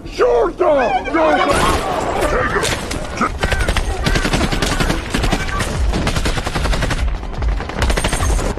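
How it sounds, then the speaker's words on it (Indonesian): Rapid bursts of gunfire crackle almost continuously, loud and dense like an ongoing firefight, with shouting voices mixed in throughout. "Dan baku tembak pun tak dapat dihindarkan lagi."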